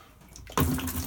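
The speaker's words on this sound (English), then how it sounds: "we're going to run the shower head" A shower head starts running into a 5-gallon pail partway through, a sudden loud, steady rush of water after quieter room noise.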